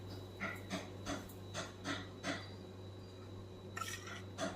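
Raw mango pickle pieces stirred with salt in a bowl, giving a series of soft rhythmic scraping and clinking strokes about every half second, faint and close over a low steady hum.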